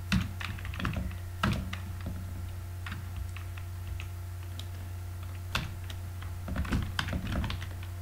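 Keys clatter on a computer keyboard while code is written, coming in close, irregular bursts of taps with short pauses, over a low steady hum.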